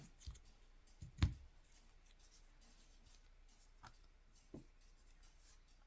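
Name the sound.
scissors cutting a paper button circle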